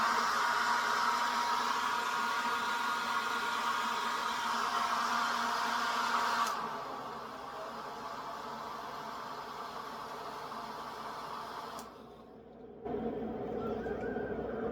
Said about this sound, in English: we have a hair dryer right here, and we're going to turn it on and see what happens